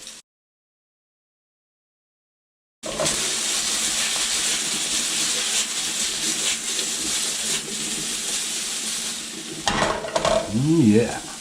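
Pork tocino frying in a pan with caramelized onions and garlic gives a steady close sizzle and hiss with stirring scrapes, after a short silence at the start.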